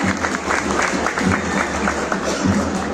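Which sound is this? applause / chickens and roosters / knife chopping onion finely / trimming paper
applause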